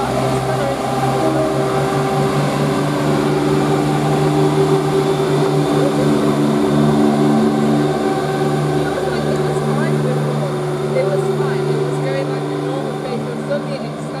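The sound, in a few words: Class 170 diesel train 170-107 departing station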